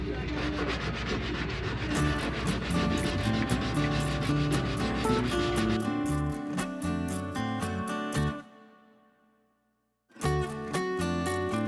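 A power sander works over a catamaran hull before primer goes on, giving a loud, steady, whining drone that cuts out briefly near the end and then starts up again.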